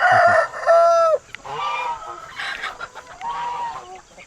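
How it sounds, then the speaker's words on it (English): Guinea fowl on a homestead give loud, harsh, repeated calls close by. Several birds overlap in bursts separated by short pauses. "So these are guineas, and there's two different groups in here."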